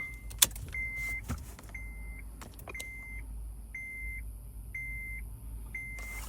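An Acura or Honda car's ignition is switched on with a registered key: a few sharp clicks and knocks at first, then a steady series of short, evenly spaced electronic beeps over a low idle hum.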